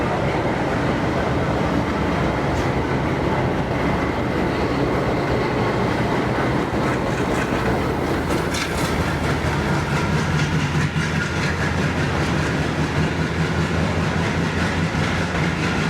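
A diesel locomotive shunting old passenger coaches of a special express at a station, producing a loud continuous rumble with rhythmic wheel clatter and clanks, close and steady with no talking.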